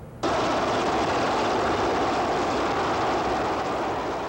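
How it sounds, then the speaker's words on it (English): Army helicopters circling overhead above a military college after a hurricane, a loud, steady rotor and engine roar that begins abruptly and holds unbroken throughout. "Army choppers began circling the Citadel Military College early this morning."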